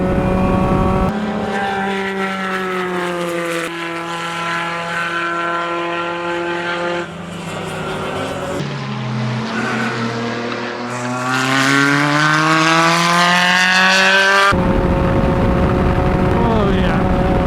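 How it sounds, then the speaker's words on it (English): A loud race car engine drones and revs on a track, climbing and dropping in pitch through several gear changes with one long surge, close and dominant throughout. "It's a race car."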